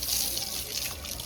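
Tap water runs steadily as soap is rinsed from hands, a continuous close trickle and splash with no talk over it.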